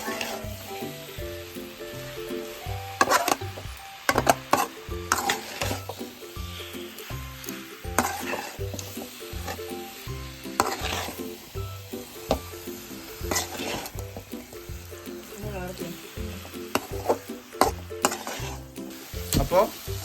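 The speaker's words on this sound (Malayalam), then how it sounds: "നന്നായിട്ട് ഇളക്കി സെറ്റാക്കി വരുന്നുണ്ട് കേട്ടോ" Kerala-style lime pickle sizzling in oil in a clay pan over a raised medium flame, stirred steadily with repeated scraping strokes over a continuous close frying hiss, without talk.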